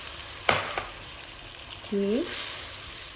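Ground blended spice paste sizzling and frying in a hot pan while a cook stirs it, a steady close sizzle after a few scraping stirs, with one brief spoken word.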